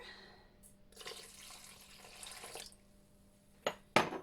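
Water runs and splashes steadily into a mixing bowl for sourdough bread dough for a couple of seconds, then stops, followed by two sharp clinks of something hitting the bowl.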